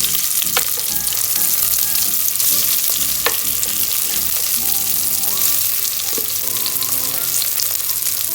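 Drained rice tipped into hot oil with browned whole garam masala in a frying pan and stirred, a loud, dense, continuous sizzle with sharp scraping and clinking strokes of the spoon against the pan, no voices.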